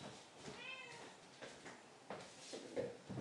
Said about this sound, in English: yes, that is my cat, Curiosity